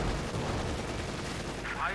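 Tank cannon fire in the real-time strategy game Company of Heroes 2 as a shot penetrates a Panther, a dense, continuous rumble of battle noise under a commentator's voice.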